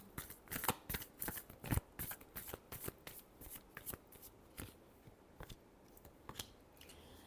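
A deck of tarot cards is riffled in a final shuffle, a quick run of crisp papery flutters and snaps close up, tapering into lighter flicks.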